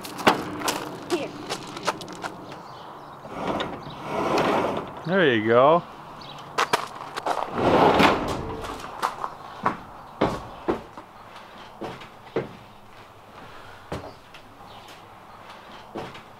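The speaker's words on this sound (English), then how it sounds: "Can you open the door?" A door on a 1955 Chevy delivery van is worked open with scattered knocks, a sliding scrape and metallic clunks, close by, with brief talk before and after.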